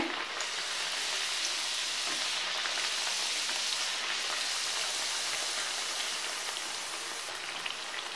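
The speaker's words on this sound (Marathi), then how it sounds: "आपलं तेल छान तापलंय आणि मी आता वडा यात सोडते" Cucumber vada sizzles steadily in hot oil over a full flame, a dense, continuous hiss and crackle with no voices.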